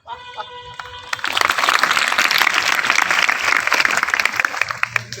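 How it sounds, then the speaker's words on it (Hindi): A classroom of students bursts into loud, dense clapping after a teacher speaks. It starts abruptly after a brief moment of talk and keeps going vigorously until the end. "किसने बोला तुम लोगों को ताली बजाने के लिए?"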